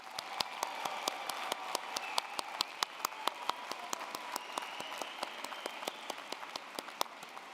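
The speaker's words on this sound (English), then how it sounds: "Everyone, please join me in applauding these outstanding graduates once more." An audience at a university architecture, design and arts spring commencement ceremony applauds graduates, with steady crisp clapping from many hands sustained for several seconds at moderate distance.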